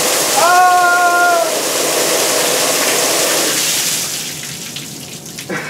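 Emergency safety shower in a chemistry lab pouring a heavy stream of water, a loud, steady splashing rush that slowly fades toward the end, with a voice heard briefly over it early on.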